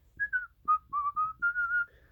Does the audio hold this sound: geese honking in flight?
no